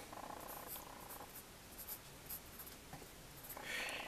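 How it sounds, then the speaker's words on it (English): Soft, quiet scratching of a pen drawing a diagram of a tuning capacitor for an AM radio, in short strokes with small pauses between them. "I want to draw it now"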